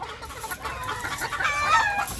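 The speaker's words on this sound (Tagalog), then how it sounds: "Dito may mga tandang pa rin dito." Several roosters of a backyard flock cluck nearby, with short throaty calls rising into clearer, drawn-out vocalizations over a steady outdoor background.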